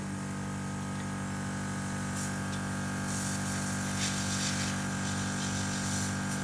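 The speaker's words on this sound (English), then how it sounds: "Turn the compressor on." An airbrush compressor runs with a steady, continuous hum and faint hiss, unchanging and fairly quiet, with no voices.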